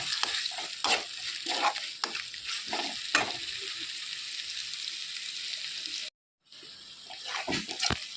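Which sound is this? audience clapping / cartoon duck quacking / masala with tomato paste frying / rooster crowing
masala with tomato paste frying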